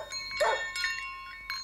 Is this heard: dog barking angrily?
yes